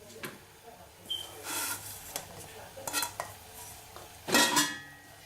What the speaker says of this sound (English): Then you just mix it in, fold it in until it comes together completely.